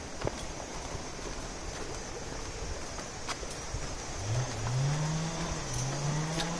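A wood-cutting chainsaw runs somewhere near a plantation path. Its engine tone rises and holds in the second half over a constant outdoor background, moderately distant and not loud.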